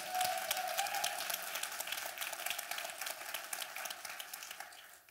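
Church congregation applauding during an apostolic ordination service, a steady wash of many hands clapping that fades gradually over several seconds, with no talk over it.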